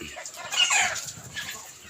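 Chickens held in a pen cluck while being fed rice, a few short scattered clucks and calls at moderate distance, fairly faint, with a brief louder burst midway.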